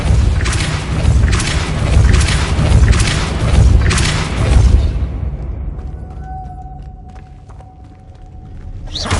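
Repeated spell blasts from Depulso in Hogwarts Legacy, a run of booming thuds in quick succession, loud and close, then fading into a quieter hum with a thin tone.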